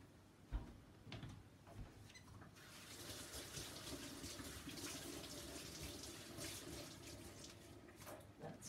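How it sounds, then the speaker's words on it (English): Tap water running over hands being washed after acrylic pouring, starting with a few splashes and then a steady, fairly quiet rush of flowing water with no talking. "Just have to wash my hands."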